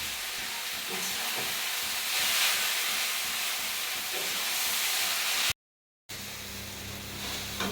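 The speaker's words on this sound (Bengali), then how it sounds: "তোমরা দেখতেই পাচ্ছ এখনো চাউমিন কষাকষি চলছে" Vegetarian chow mein sizzles and hisses loudly in a hot pan as it is stir-fried, with a steady frying roar, a brief silence, and then the sizzling resumes.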